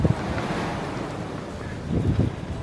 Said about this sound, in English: as windy as it is right now